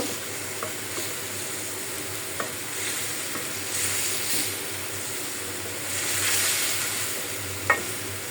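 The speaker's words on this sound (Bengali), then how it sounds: "এখন আমি মাছের মাথাটা দিয়ে দিলাম, একসাথে কষায়" A fish head sautéing in a pan with salt, giving a continuous hissing sizzle that swells and eases, with a few faint taps of a spoon and no talking.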